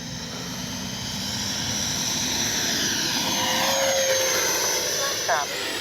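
A FlyFans L-39 camouflage RC jet with landing flaps lowered whooshes past, its turbine hiss building into a broad steady roar at moderate distance, with a voice talking over it.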